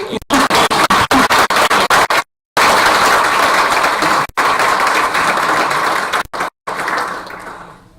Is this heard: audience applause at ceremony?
yes